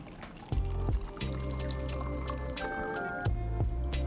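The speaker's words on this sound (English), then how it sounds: "we're gonna open it and pour it into the glass now" A Sauvignon Blanc fizz cocktail is strained and poured into a glass: a steady liquid stream splashes and trickles, stopping and restarting a few times with rising gurgling tones as the glass fills, close and alone with no talk.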